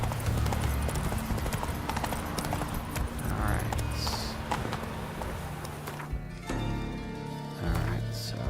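Horse hoofbeats from the video game The Witcher 3: Wild Hunt, a steady close clip-clop of a galloping mount over continuous game ambience.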